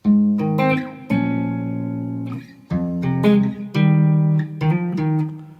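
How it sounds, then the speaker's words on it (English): Clean electric guitar picks out a short melodic intro, notes and chords ringing and sustaining, then a brief pause before the phrase continues. "I'm playing it on electric guitar"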